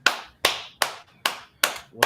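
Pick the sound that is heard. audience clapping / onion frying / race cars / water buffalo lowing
audience clapping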